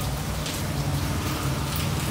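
Steady rain patter fills the background, with a low rumbling hum underneath and a brief tonal sound cutting in right at the end.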